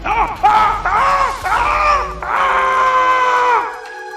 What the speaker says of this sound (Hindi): विश्वेश्वर के घर से एक पुरुष के चीखने की दर्दनाक आवाज आई।